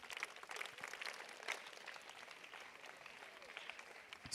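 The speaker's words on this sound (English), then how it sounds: "So clap for yourself once again." Students clapping in applause at a school prefectorial election, a steady mass of hand claps from a crowd filling the whole clip, with no talk.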